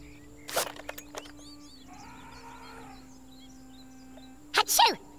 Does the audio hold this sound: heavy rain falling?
no